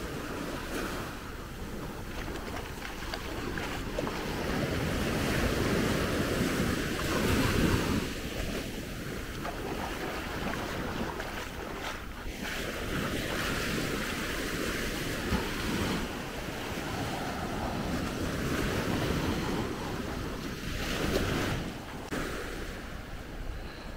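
Ocean surf rolls onto the beach at Maspalomas, Gran Canaria in a steady, continuous wash with some wind rumble against the microphone, swelling slightly at times and never falling quiet.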